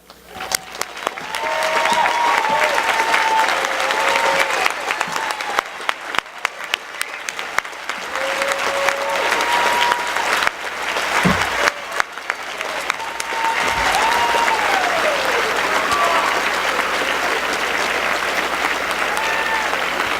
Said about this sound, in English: so that we can applaud your wonderful achievement